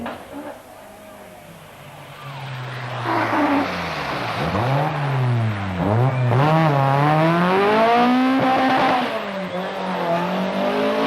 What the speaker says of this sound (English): MILLE is using the four-wheel drive Quattro to good effect